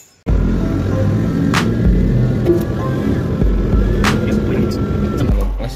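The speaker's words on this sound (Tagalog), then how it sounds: "ang problema ng Monterong to ay maingay sa engine sa part dito" A Mitsubishi Montero with a noisy engine idles close by, a loud steady low rumble with rough mechanical texture and a couple of sharp ticks. A voice is faintly present.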